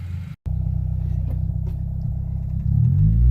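Honda Civic engine running steadily while driving, a low continuous rumble and hum close by that swells louder near the end as it accelerates, with no talking.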